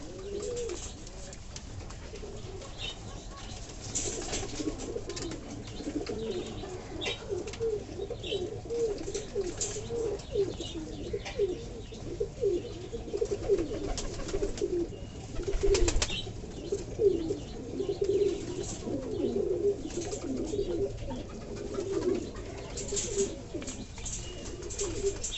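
A flock of pigeons feeding on water-soaked chickpeas coos in low, repeated, overlapping calls, with soft rustling and occasional wing flutters close by, steady throughout.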